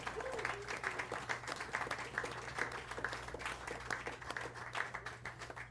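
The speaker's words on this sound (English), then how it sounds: "So a big round of applause for Aaron." Club audience applauds owner Aaron Barnes, who sits at the bar, with moderately loud, fairly even clapping, a low steady hum running beneath it.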